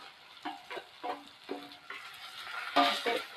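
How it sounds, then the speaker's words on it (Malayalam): Spice powders (chilli, coriander, fenugreek and turmeric) fry and sizzle in a pan for fish curry while a spoon stirs them in a series of scraping strokes, close and moderately loud, with no talking. "എന്നിട്ട് ഇതിൻ്റെ പച്ച മണം മാറുന്നതായിട്ട് നല്ലോണം മൂപ്പിച്ചെടുക്കാം."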